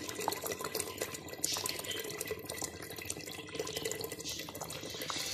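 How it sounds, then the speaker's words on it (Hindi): Water is poured from a vessel into a pan of fried curry masala for potato kofta, a fairly quiet steady splashing trickle with faint droplets, heard alone. "अब मैं इसमें थोड़ा सा पानी ऐड करूंगी।"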